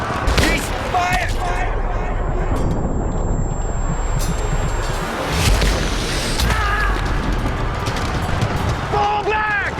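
Musket volleys and scattered gunfire in a 1775 battle reenactment at Lexington, sharp cracks and booms breaking over a dense roar, with shouting voices mixed in throughout.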